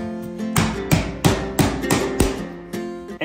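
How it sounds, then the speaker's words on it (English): Hammer strikes on bronze-nickel coloured trim during a cabin renovation: about seven sharp, loud, close knocks in an uneven rhythm over a faint steady hum. "And this is not my usual hammer."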